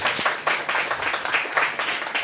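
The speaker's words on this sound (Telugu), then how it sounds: "గట్టిగా చప్పట్లు కొట్టండి ఒకసారి." A church congregation claps loudly together, a dense, steady stream of hand claps with a fairly even beat throughout.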